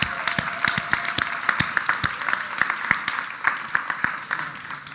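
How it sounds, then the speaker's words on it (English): Applause rings out for the finalists at a sustainability award announcement during Copenhagen Fashion Week. Sharp individual claps stand out over a dense crowd of clapping, with a faint steady tone underneath. "And one more final round of applause for our incredible finalists, Ranra."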